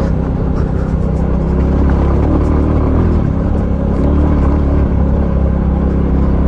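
A Royal Enfield Classic 350 motorcycle rumbles steadily while off-roading over deep potholes on an uphill track, its engine and wind noise loud and continuous throughout.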